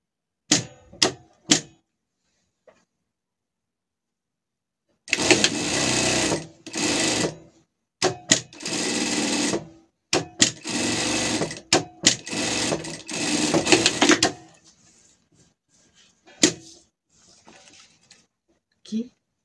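A sewing machine stitches a zipper onto surgical clothing in rapid mechanical bursts, a few quick taps followed by several longer runs of stitching separated by short pauses.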